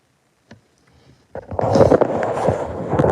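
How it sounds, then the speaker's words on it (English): After a brief tap and near silence, a loud, breathy nose blow bursts in close by and continues noisily to the end. "I had to blow my nose once again."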